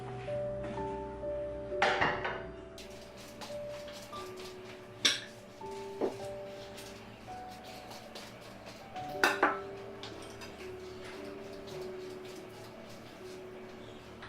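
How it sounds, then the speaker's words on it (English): Cutlery is set out on a dinner table for a spring dinner party, with a few sharp metallic clinks and clatters spaced apart against quiet room tone. "Next up, the cutlery."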